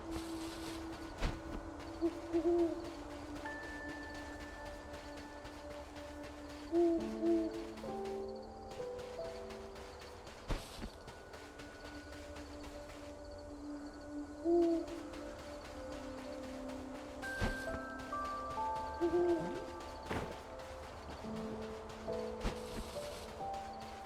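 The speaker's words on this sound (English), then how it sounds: "Is the audio actually an indication where the owl is? Because I hear it on my right side." An owl hoots in the video game Death's Door, soft two-note calls repeating every few seconds at middle distance over quiet ambient music and rustling.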